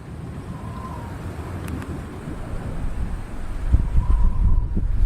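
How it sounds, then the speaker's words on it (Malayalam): Strong wind blows outside ahead of rain, a steady, loud rumbling rush buffeting the microphone and swelling slightly toward the end, with no voices. "പുറത്ത് നല്ല കാറ്റുണ്ട്"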